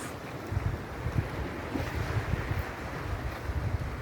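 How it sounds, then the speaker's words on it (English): Low, rumbling Caribbean surf washes and thuds against rocks in irregular pulses on the Jamaican coast, against a steady wind-blown hiss, with no voices. "if you listen carefully, you can hear the waves hitting this."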